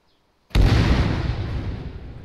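A single sudden explosive boom from a gun run fire support strike in the video game Arma 3, loud and close, with a long rumbling decay trailing off after the initial blast.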